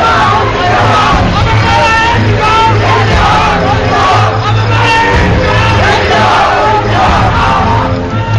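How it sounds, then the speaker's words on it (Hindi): A large crowd at a street procession chants and shouts slogans in unison, a dense, loud roar of massed voices with rhythmic surges that fill the whole stretch. "यहां भीड़ इंतकाम की बात कह रही है"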